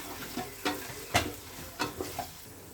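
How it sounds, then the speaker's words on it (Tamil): Tomatoes sautéing with salt in a pan for chicken biryani, with a few distinct spoon stirs and scrapes over a soft low sizzle, close and quiet. "தக்காளி ஆட் பண்ணிட்டு நல்லா வதக்கிக்கோங்க."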